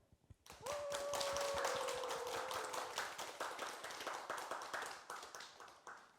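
An assembled Buddhist congregation claps to welcome three invited monks: dense, steady applause from many hands that swells quickly, holds, then gradually thins out toward the end, with a brief tonal ring near the start.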